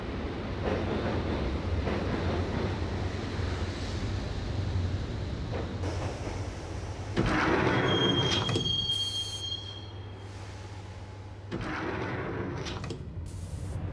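Train ride in the video game Max Payne, heading for Roscoe Street Station: a steady rumbling rail roll with clattering wheels, then a loud, sustained metallic wheel squeal rises and fades before the rolling noise resumes.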